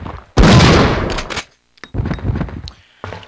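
A weapon with heavy blowback fires at zombies in Resident Evil 3: Nemesis, giving one loud, close blast with a long decay, then a second burst a moment later and a brief third hit at the end.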